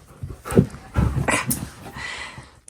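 Husky dog close by whimpering and whining in several short bursts, mixed with panting and snuffling sounds, with no talk over it.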